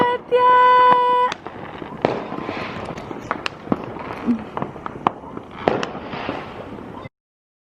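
New Year fireworks burst in a rapid series of sharp cracks and booms, a loud whistling tone opening the sequence before repeated explosions crackle and echo, then cut off abruptly.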